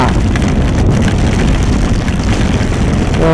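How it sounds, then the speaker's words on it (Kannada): Heavy monsoon rain on a motorbike ride toward Dharmasthala makes a loud, dense, unbroken roar, with rush and wind noise filling the whole stretch. "ಸರಿಯಾದ ಮಳೆ ಎಕ್ಸ್ಪೆಕ್ಟೇ ಮಾಡಿರಲಿಲ್ಲ ಇಷ್ಟೊಂದು ಮಳೆ ಐತೆ ಅಂತ"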